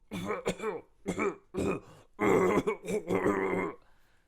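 A person imitates an air compressor's wet, phlegmy cough with a series of throaty, rasping coughs and grunting bursts, close to the microphone.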